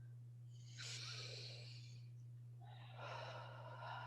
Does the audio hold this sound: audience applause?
no